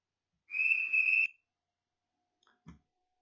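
A single shrill station master's whistle blast lasting under a second, followed by a couple of faint clicks and then quiet.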